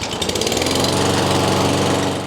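Toro Recycler lawn mower engine running steadily and loud after a pull-start, a constant close motor drone with a rough buzzing rattle and no talk.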